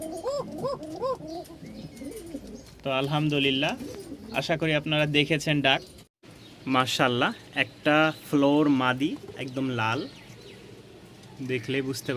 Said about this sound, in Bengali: কবুতরগুলো আমরা আলাদা রাখি ঠিক আছে এই জন্যই কবুতর আলাদা রাখি